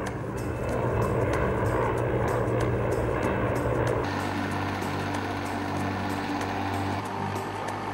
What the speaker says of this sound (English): As under slung load, the Crayler FLG can be flown at speeds of up to 120 knots by the CH-53.